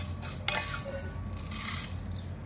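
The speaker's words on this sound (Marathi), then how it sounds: "अख्खे हिरवे मूग घेतलेत भाजायला." Whole green mung beans are dry-roasted in a pan, stirred with a soft continuous rustling scrape and a few light knocks, close and steady with no one talking.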